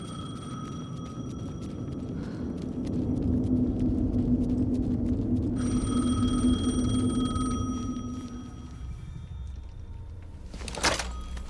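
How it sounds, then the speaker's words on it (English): A telephone rings in the video game Alan Wake 2, a repeated electronic tone that comes in two bursts over a low droning ambience, ending with a brief sharp clatter. "The phone again."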